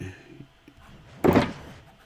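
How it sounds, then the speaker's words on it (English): A door shuts in Minecraft with the TF2 Stuff mod (1.12.2): a single solid thud after a quiet stretch of faint background noise. "Last one alive, lock the door!"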